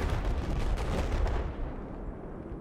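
Artillery fire during a 32-versus-32 veteran-tier video game scrim on the Resort map: a dense, rumbling barrage of booming shots over the first second and a half, then trailing off into a low, fading roar.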